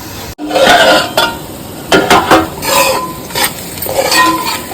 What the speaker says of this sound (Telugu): ఇలా మధ్య మధ్యలో కలుపుతూ ఉంది, చక్కగా మగ్గుతుంది